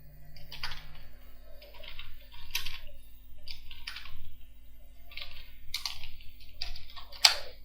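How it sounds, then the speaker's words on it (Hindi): Someone types on a computer keyboard while entering headings into an Excel spreadsheet, with short bursts of key clicks separated by brief pauses over a low steady hum. The typing is moderately close. "मैं हेडिंग टाइप कर रहा हूँ एक"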